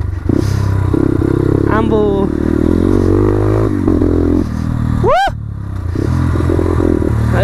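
A motorcycle engine with a carburettor tuned to be loud revs steadily and close by during a New Year's Day ride, its low throbbing drone running the whole time beneath excited talk.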